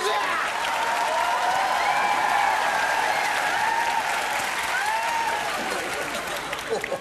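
A studio audience at a televised Korean comedy show breaks into loud, continuous applause mixed with some cheering, the clapping steady and full while voices ring out over it.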